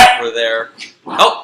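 A dog gives a couple of short barks close up, overlapping with a person talking.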